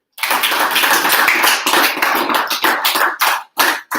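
Dense, sustained clapping from an audience at a high school boys soccer awards afternoon, loud and continuous for several seconds before thinning into scattered final claps.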